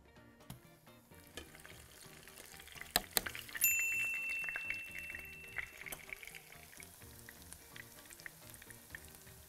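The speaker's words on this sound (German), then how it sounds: "Weiter in Paniermehl, dann in Öl ausbacken." Breaded cauliflower schnitzel fries in hot oil, a steady close sizzle that swells louder as pieces go in, with occasional clinks and stirring and no talk.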